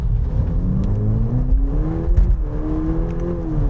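Engine of a VW Polo GTI hot hatchback accelerating, heard from inside the car with road noise; a steady, rising whir and hum that climbs in pitch, continuous and moderately loud, with no talking.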